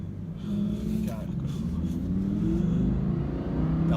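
A tuned 1000 HP Audi R8 engine and exhaust accelerate from inside the car, a rising, steady growl with climbing pitch through the gears, heard under conversation.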